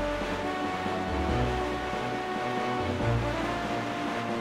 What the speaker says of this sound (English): Me and my boat on the high seas. The waves rolling all around us.